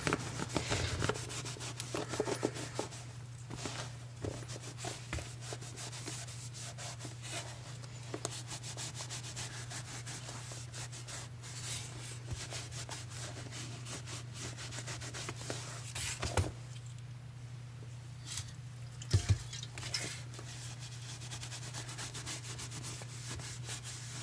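Rag rubbing finish stripper onto a leather shoe during restoration, a close, steady scrubbing and rubbing texture throughout with a low constant hum beneath and occasional small taps.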